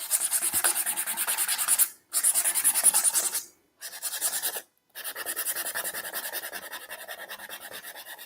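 Hand sanding over a partly dried ivory lacquer finish, a close, steady rasping rub in repeated strokes, broken by three short pauses.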